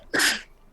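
A single sharp sneeze bursts out close to the microphone, loud and breathy, lasting under half a second.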